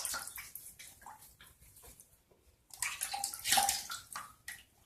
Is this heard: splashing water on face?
yes